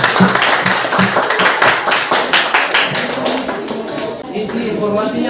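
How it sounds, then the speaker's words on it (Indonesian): A classroom group claps in a dense, steady patter of overlapping hand claps that fades slightly toward the end, with faint voices mixed in. "Oke, tepuk tangan dulu untuk kelompok 3"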